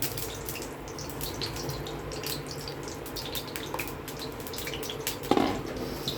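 Potato bhajiya fry in hot oil and give a dense, steady crackle and bubbling up close. A louder splash or clatter comes near the end.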